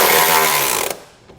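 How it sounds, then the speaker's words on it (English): A power tool whirs loudly, driving a 13mm socket to tighten bracket bolts on a 2022 Nissan Frontier during a nerf bar install, then cuts off abruptly, leaving a brief faint clank. "we're going to go ahead and start tightening down our hardware"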